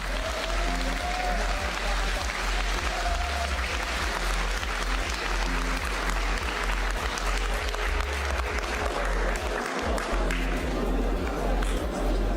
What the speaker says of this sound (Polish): Proszę o gorące brawa dla nauczycieli